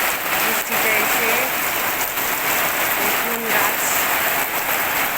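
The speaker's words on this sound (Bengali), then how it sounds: "দেখুন বৃষ্টি, এই প্রচণ্ড গরমে মানুষকে শান্তি দিচ্ছে বৃষ্টিটা এসে।" Rain pours during very hot weather, a steady, loud wash of drops hitting surfaces, with a person briefly speaking over it.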